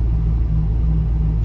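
A 1974 MG B GT V8 rolls over a rough, bumpy road, its engine and tyres making a steady, loud low rumble that carries evenly throughout with no voices over it.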